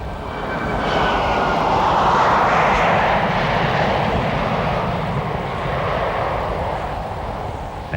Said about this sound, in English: The well-loaded aircraft again displays its sprightly takeoff and steep initial climb.